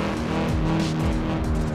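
A Ford Fiesta in the racing game Forza Horizon 4 screams along with a steady, sustained engine whine and overlapping tire squeal, loud and continuous with shifting pitch.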